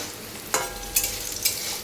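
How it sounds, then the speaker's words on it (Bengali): Bitter gourd and teasel gourd sizzle in a frying pan, a close, bright hiss with a few crisp pops and a utensil scrape over under two seconds. "আর এখানে উচ্ছে কাঁকরোল ভাজছি।"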